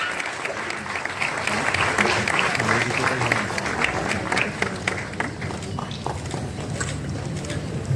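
Audience applause at a Marathi theatre council lifetime-achievement award ceremony honouring actors, a dense, steady wash of clapping from a large crowd that carries through the whole stretch with some crowd noise mixed in.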